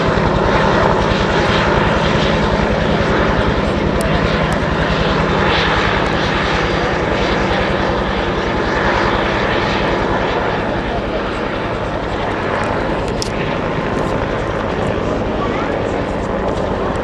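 A Huey helicopter roars loudly and steadily overhead during an air show display at Duxford, its engine and rotor noise filling the air throughout, with a commentator's voice partly buried underneath.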